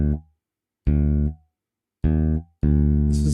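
Sampled bass guitar notes from the EZ Bass library, a high D played on the lowest string, sound as three short plucked tones followed by a longer sustained one, each starting cleanly with no room noise between them.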